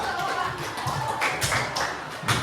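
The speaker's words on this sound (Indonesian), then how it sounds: "Aku beri tepuk tangan dulu tuh." Schoolchildren in a classroom clapping for a student who answered a question, a short stretch of irregular taps and claps heard at moderate level.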